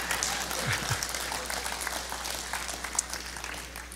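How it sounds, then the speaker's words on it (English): Church congregation applauding during a sermon, a dense steady wash of many hands clapping at once, fairly close and filling all four seconds with no speech over it. "Go ahead and applaud. That's worth applauding."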